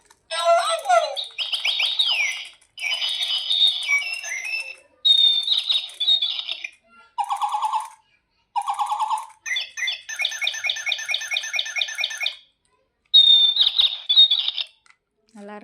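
A toy with two parrots gives out a string of electronic chirps and tweets, repeating in close, evenly spaced bursts separated by brief silent gaps.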